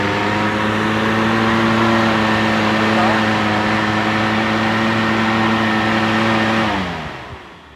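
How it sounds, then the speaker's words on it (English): A Mercury Comet engine with a rebuilt two-barrel carburetor and choke runs at a high, steady rev with a droning tone, then winds down near the end; close and loud. "It's revving up."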